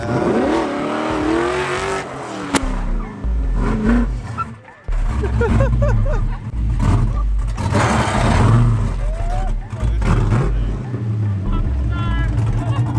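LS-swapped drift car engine roaring and revving up and down close by, loud and rough with rising and falling pitch, while people shout and talk over it.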